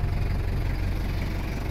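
A Mazda Bongo with the semi-electronic R2-RF engine idles just after starting, a steady, even low rumble close by with no voices.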